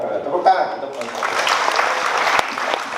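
A crowd of aspiring young entrepreneurs and university students breaks into sustained applause that fills the room after a brief moment of speech.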